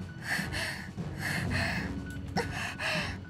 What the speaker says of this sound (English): She's panting hard.